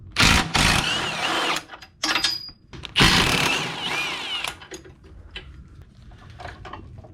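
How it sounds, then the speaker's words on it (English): A power tool rattles in several loud bursts as the last subframe bolts come out of a 2007–2013 MINI Cooper S R56 during clutch replacement, with quieter mechanical clinks between bursts. "that's going to allow me to remove the last 2 bolts."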